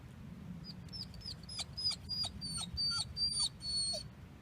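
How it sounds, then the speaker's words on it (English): A small dog whimpers and squeaks impatiently in a series of high, thin, wavering cries, fairly close, over a steady low background rumble. "Don't mind the squeaking, that's just my dog Jack."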